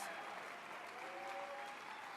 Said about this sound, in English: If you're on my board of directors, give them a round of applause.